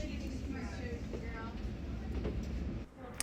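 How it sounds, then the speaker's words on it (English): Steady low rumble and rattling of an E train subway in motion fill the clip, with faint squeals above the continuous noise. "After a short subway ride on the E train"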